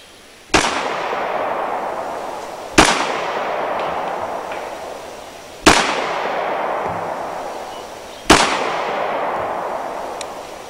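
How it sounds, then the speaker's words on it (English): A stock pistol firing 230 grain rounds outdoors, four loud sharp shots spaced a few seconds apart, each followed by a long echoing decay, with no voices. "watch the muzzle flip and recoil of the stock gun with a stock 230 grain loading"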